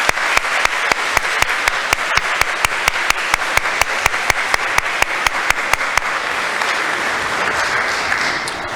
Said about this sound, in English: I'd ask that you show your appreciation to all of them with a heartfelt round of applause